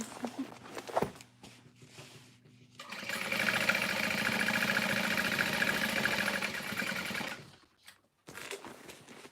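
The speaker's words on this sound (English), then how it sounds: "Okay, so I'm sewing around the top again." A sewing machine runs in one continuous burst of several seconds while stitching around the top of a modified Swoon Harriet sewn project, its rapid even mechanical whir starting and stopping abruptly between quieter moments with faint voice sounds.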